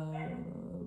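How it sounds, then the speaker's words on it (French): A dog barks and growls out in a street, the sound carrying through a room under a woman's continuous speech for under a second. "vous entendez un chien aboyer dans la rue"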